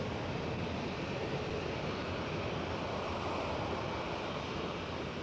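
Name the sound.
KLM Boeing 737 taking off down the runway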